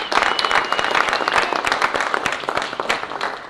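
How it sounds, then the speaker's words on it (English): A room of people breaks into applause, dense clapping for a few seconds at a meeting or gathering. "round of applause."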